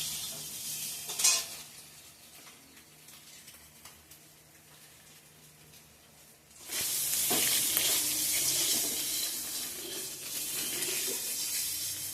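Eggs frying in a pan: a few faint kitchen clatters over near-quiet, then a loud, steady, close sizzle starts about two-thirds of the way through and carries on to the end, with no talking.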